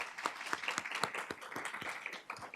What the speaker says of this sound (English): So let's give a round of applause to Paula